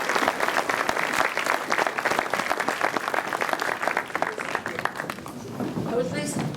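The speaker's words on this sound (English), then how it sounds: "So let's give him a round of applause for that." Audience applause at a Gaelic choir's annual concert in Glasgow, a dense, steady round of clapping from a full hall that continues for several seconds before gradually thinning out, with some murmuring and voices underneath near the end.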